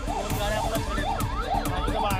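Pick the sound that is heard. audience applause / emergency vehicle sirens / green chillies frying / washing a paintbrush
emergency vehicle sirens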